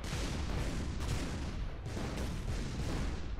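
Heavy, continuous blasts and rumbling booms from tank shots exploding in the ShellShock Live artillery game, loud and dense throughout with a few sharper bursts, no talk over them.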